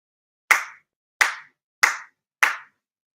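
Four single sincere claps at a prayer service, evenly spaced about two-thirds of a second apart, each crisp and close against silence.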